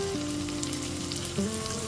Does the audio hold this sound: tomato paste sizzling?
yes